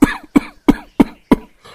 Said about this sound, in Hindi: उसके ससुर के खांसने की आवाज से उसकी नींद खुल जाती है